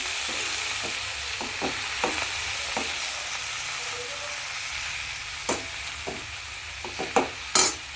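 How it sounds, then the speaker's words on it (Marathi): Fenugreek greens (methi bhaji) stirred in a pan, a steady soft sizzle broken by a series of sharp spatula scrapes and taps that come in bursts, growing louder toward the end, with no talking. "पूर्ण हलवते. बघा अशी शिजते भाजी."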